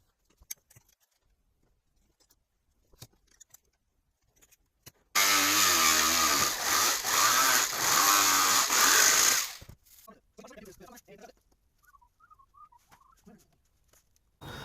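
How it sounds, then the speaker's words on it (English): A power saw cutting a thin LEXAN plastic sheet into straight strips, one loud harsh buzzing cut lasting about four seconds, with quiet clicks and handling noises before and after. "It's just kind of a hassle to cut perfectly straight strips."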